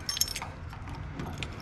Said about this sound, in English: Mopar keys going upside down.